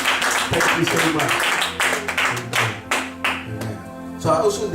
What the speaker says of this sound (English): So clap your hands for yourself.